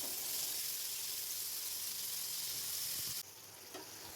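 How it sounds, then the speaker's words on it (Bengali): Prawns frying in white oil on a hot tawa give a steady, close sizzle with a dense hiss throughout, which drops slightly in level near the end. "চিংড়ি মাছগুলোকে আস্তে আস্তে করে ভেজে নিচ্ছি।"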